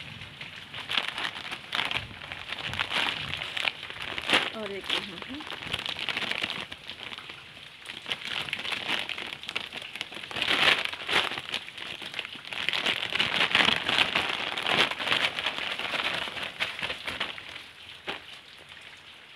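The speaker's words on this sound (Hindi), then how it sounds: "लगातार जो है बारिश हो रहा है बारिश बंद होने का नाम ही नहीं ले रहा है" Continuous rain falls outdoors in a steady, dense hiss and patter that lasts throughout, with a brief bit of speech and a few faint bird calls.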